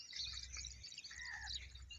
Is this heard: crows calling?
yes